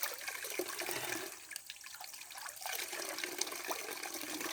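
Fresh water runs and splashes steadily at a moderate level, dipping briefly in the middle before the flow resumes.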